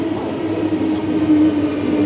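A metro train entering a station platform in Stockholm, a loud, close, continuous rumble with a steady low hum and faint squeals above it, briefly heard alone.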